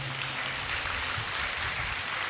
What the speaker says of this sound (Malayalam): ഒന്ന് കൈയടിച്ച് കർത്താവിന് നന്ദി പറയാം.